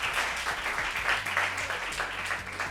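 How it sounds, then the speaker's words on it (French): Audience applause welcoming a guest onto a French-language talk show, brief steady clapping heard briefly over a low background hum and music-like tones. "On applaudit pour lui."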